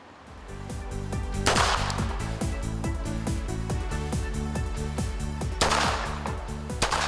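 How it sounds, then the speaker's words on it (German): Rapid bursts of gunfire ring out on a police horse training ground, a dense, steady volley of sharp cracks repeating fast for several seconds, loud and close, with heavier blasts near the start and end. "wir werden jetzt einfach mal schießen und gucken, ob sie dort auch alle bleiben"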